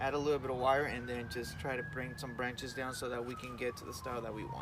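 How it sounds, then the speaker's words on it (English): Emergency vehicle siren wailing faintly in the background outdoors on a patio, a long gliding tone rising and slowly falling under continuous close talk from a man trimming a formal upright bonsai. "we want to excuse the sirens on the background,"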